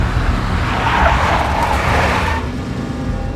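A big black Mercedes in the Max Payne video game drives hard and skids, tires squealing loudly over a roaring engine for a few seconds before the squeal fades.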